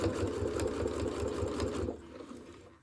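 A sewing machine stitches steadily toward a fabric corner on a small tissue holder, a fast even whir that runs alone for about two seconds before stopping abruptly.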